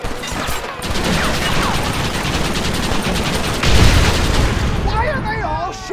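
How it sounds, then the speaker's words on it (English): Heavy gunfire in a Red Dead Redemption shootout, rapid overlapping shots forming a dense, loud barrage close by, with a deeper boom midway, as voices shout over the firing. "Why are they all shooting at me?"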